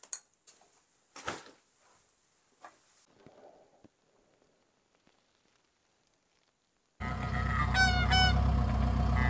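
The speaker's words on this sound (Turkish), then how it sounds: "Bayağı bir kaz sesi geliyor." Geese honking during a goose hunt in Sweden: faint, scattered calls from distant birds over near silence, then a loud burst of rushing noise and sharp high cries toward the end.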